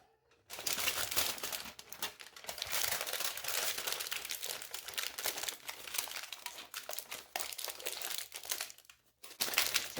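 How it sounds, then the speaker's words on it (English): Tin foil crinkles and crumples loudly and continuously as it is wrapped tightly around the front end of a hot glue gun, a dense, close rustling that runs nearly nonstop before stopping briefly near the end. "take a piece of tin foil and wrap your glue gun up in it, mainly the front end."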